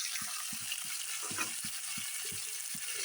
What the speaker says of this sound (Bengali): মাছ ভাজা হয়ে গেছে বন্ধুরা এখন তুলে নিচ্ছি